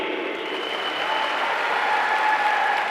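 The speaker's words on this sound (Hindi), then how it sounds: "दूसरी सबसे जोरदार ताली हम सब की पहचान को बनाने में सबसे आगे चलने वाले हमारे उत्पाद के लिए" An audience at a ninth-anniversary company event claps loudly and continuously, a dense wash of applause that swells slightly toward the end, with no voices over it.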